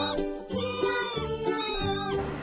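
A domestic cat meows twice in quick succession, each call drawn out and tonal, close and clear with no other sounds around it.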